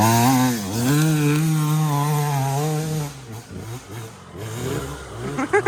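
A Yamaha YZ250 dirt bike climbs a hill in third gear, its engine holding a loud, rising, buzzing rev for about three seconds before dropping away into uneven sputters and quieter bursts.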